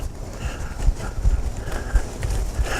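A cutting horse walks over ground, its hooves clip-clopping in a steady, irregular rhythm close by, with no talk over the footfalls.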